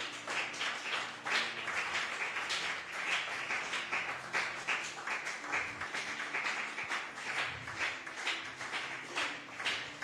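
A church congregation applauds in steady, dense clapping that carries on evenly for about ten seconds without a break.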